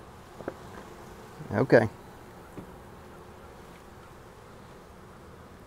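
Honeybees buzz around an opened hive during a spring inspection of split and swarm colonies. A close, steady droning hum fills the clip, and a voice briefly speaks over it.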